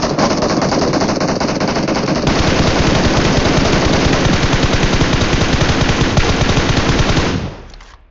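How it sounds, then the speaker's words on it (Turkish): Sustained bursts of rapid machine gun fire, loud and relentless, rattling almost continuously before cutting off abruptly near the end. "Abi çok vuruyorum Mustafa düşmüyorlar."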